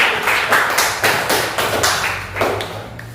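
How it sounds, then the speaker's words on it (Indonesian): A class of ninth-grade students claps for a student group, a loose burst of distinct hand claps in an uneven rhythm, close and fairly loud, with a low hum beneath. "Tepuk tangan dulu buat kelompok YSK"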